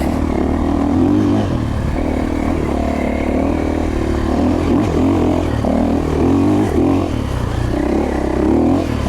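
A 2024 KTM 450XCF-W dirt bike engine runs loud and close, its single-cylinder rumble steady with small revving swells as it is ridden on a woods track.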